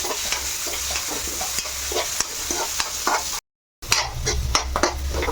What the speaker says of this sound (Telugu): ఇప్పుడు ఇందులో బఠానీలమ్మ ఇవి వేసేస్తున్నా. ఇవి మగ్గాలి కాసేపు.